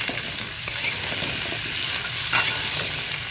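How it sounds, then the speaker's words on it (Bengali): A vegetarian curry of fresh rooftop-garden Malabar spinach and vegetables frying and being stirred in a pan, giving a steady, fairly loud sizzle with a few brief scraping bursts. "একটু নাড়াচাড়া করে নিলাম"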